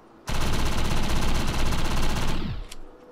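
Rapid sustained SMG fire in the video game Defiance, a loud continuous burst of automatic shots lasting over two seconds before cutting off, followed by faint clicks.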